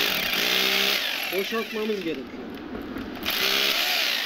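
A power drill with a bit spins in a hole drilled for a steel anchor, clearing out dust. Its steady, loud grinding whine runs through most of the moment, with someone speaking Turkish over it.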